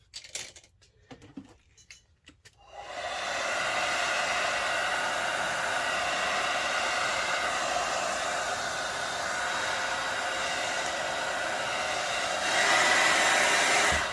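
A hair dryer blows steadily over a wet-in-wet monochrome ink landscape painting, starting after a few seconds of quiet handling noises and holding a loud, even airflow roar to the end.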